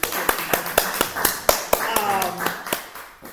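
Hands clap in a steady, rhythmic beat at a book signing event, close and fairly loud, while a voice talks over the claps.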